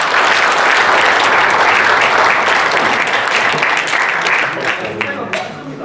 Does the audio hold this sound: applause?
yes